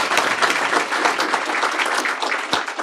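Applause from a school board meeting audience, a sustained crackle of many hands clapping at moderate distance, steady and even for the whole stretch without a break.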